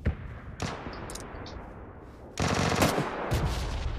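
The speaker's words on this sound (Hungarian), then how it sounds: "Aha, már jönnek a lövések." Gunfire in the battle royale video game PUBG Lite: bursts of rapid automatic shots over a steady noisy game background, with a louder, denser barrage starting midway and continuing to the end.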